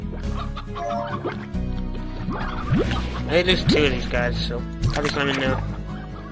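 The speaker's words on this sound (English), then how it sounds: "Supposed to be a hen hen somewhere here." Hens cluck in the video game Slime Rancher, a few scattered clucks mixed with game sounds and music while a person talks over them.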